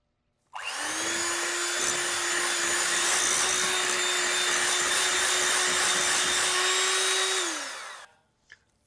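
An electric mixer blends flour into sponge cake batter, a loud, steady motor whine with a gritty churning edge that starts abruptly, runs for about seven seconds close by and cuts off, followed by a small clink.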